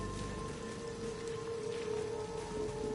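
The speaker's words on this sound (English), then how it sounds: "It's just the rain." Steady rain in the video game Returnal, a soft continuous patter with faint droplet detail under a low ambient drone, quiet and even throughout.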